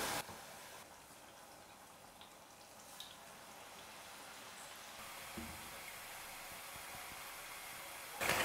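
Pottukadalai (roasted gram) murukku sizzles in bubbling hot oil, giving a soft, steady, fine-grained crackle that runs evenly throughout with no voices over it.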